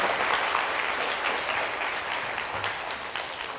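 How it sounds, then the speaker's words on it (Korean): An audience at a university lecture claps continuously, a dense and steady wash of applause throughout. "이쯤에서 박수를 한번 치시면 되는 거거든요."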